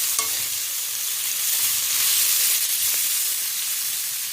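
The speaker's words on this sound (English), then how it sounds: "I'm going to mix it and I'm going to let it cook for again a couple of minutes" Onions and vegetables for a vegetable chow mein fry in a pan with a steady, close, broadband sizzle, and stirring scrapes come through intermittently across the whole stretch. No voices are heard.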